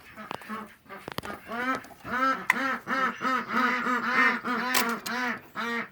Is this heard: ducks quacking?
yes